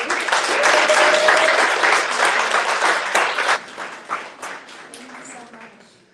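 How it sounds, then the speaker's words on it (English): An audience at a literary magazine reading event applauds in a dense, sustained wash of clapping that gradually thins and fades out over several seconds. "Another round of applause for Massachusetts Review."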